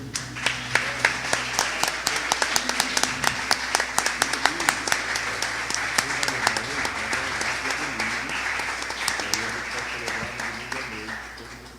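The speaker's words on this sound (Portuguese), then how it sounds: "Aplauda a Deus pela vida dele." A church congregation claps together in a large sanctuary, a continuous crowd of hand claps with a loose shared rhythm, while voices talk and call out underneath throughout.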